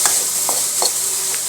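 Chow mein ingredients with fish sauce being sautéed in a pan, a steady bright sizzle with several quick scraping stirs of a utensil, close and clear with no voices.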